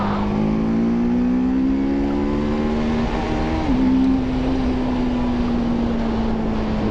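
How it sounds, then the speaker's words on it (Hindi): Loud, close exhaust drone from a TVS Apache RTR 310 motorcycle as it decelerates in urban ride mode, holding a steady buzzing note with a brief dip and recovery midway, continuous throughout without speech. "डी एक्सेलरेशन का साउंड भी कितना प्यारा है यार।"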